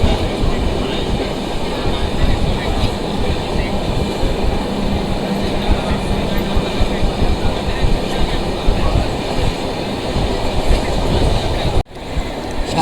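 Onboard the Chandigarh–Yesvantpur Karnataka Sampark Kranti superfast express crossing the Narmada river bridge, a loud continuous rumble and rattle of rolling coaches with rhythmic wheel clatter, steady throughout.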